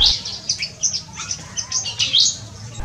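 Native Sukabumi bird, a male kept in an aviary, calls in a run of bright, high chirps and short tweets that repeat irregularly at close range over a low background hum.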